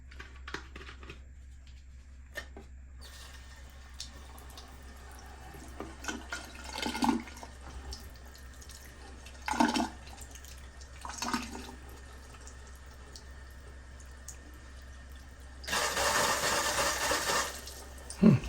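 Water runs into the tank of an Arctic Air Tower cooler in intermittent bursts, with a louder steady pour near the end, someone speaking briefly between.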